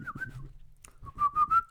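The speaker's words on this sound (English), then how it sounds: "Dude, whistle while you work" A person whistles a short tune in a few sustained notes, with a brief pause in the middle and a couple of louder rising notes at the end, close and fairly clear over faint background noise.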